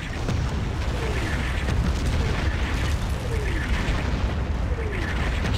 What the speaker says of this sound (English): That's real artillery